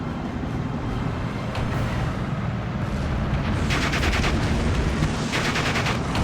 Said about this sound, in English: our first Panzer goes off and gets a direct hit